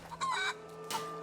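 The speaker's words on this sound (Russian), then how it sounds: "Куры!" Chickens cluck in the video game A Plague Tale: Innocence, set in 1350s France: two short, close clucking bursts in quick succession over a faint steady hum.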